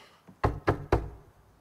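Three firm knocks on a locked door in The Quarry video game, evenly spaced and close, with a faint tap just before them and no talk.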